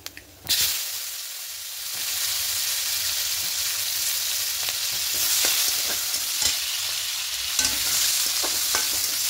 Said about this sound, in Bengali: এবার একটু হালকা লাল করে পেঁয়াজটা ভেজে দেব।